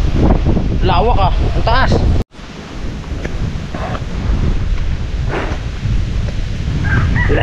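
Strong wind roars and buffets the microphone throughout, with a brief dropout midway and people talking over the gusts.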